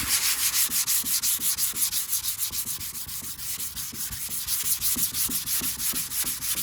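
A sanding block works over car paint in quick, even back-and-forth strokes, a close, steady rhythmic scraping rasp that continues without pause or speech.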